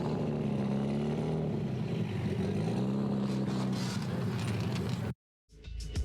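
A Mitsubishi Evo pulls out of a cars and coffee meet in Austin, Texas, its engine droning at a low steady tone before rising in a rev, then cutting off abruptly near the end.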